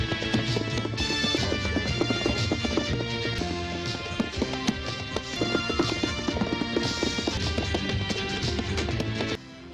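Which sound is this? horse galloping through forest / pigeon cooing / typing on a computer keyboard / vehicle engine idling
horse galloping through forest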